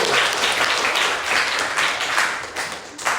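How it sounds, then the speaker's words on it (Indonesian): A class applauds group 1 after their presentation: a short burst of clapping that swells and eases in a few uneven waves and then fades out. "Tepuk tangan dulu untuk kelompok 1."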